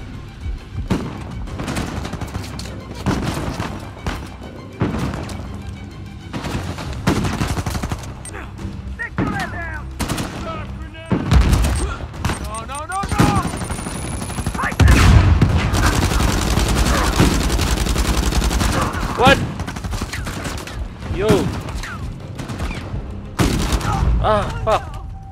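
Sniper shots and rapid gunfire from the video game Uncharted 4 crack in dense, repeated bursts with heavy booms and thuds over a continuous game soundscape, with occasional voices mixed in.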